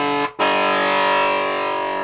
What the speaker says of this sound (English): it's got a nice sustain for a gated fuzz, so it starts to crackle and fart